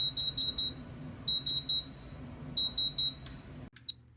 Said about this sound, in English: The machine will beep when it's ready.